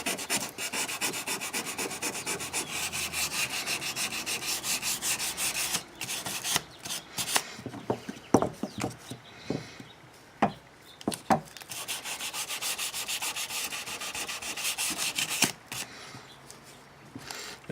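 Steady abrasive rubbing as excess epoxy is sanded off a Condor Nessmuk knife handle, continuous and close for several seconds, breaking into separate scraping strokes in the middle, then returning to a sustained rasp.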